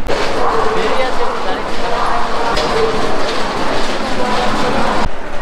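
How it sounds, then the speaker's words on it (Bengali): A train bound for Namkhana rumbles at Sealdah railway station in Kolkata, loud and close with rolling clickety-clack and heavy mechanical noise, a sharp clank near the end, with a voice talking over it. "এই যেই হচ্ছে নামখানা যাওয়ার ট্রেন।"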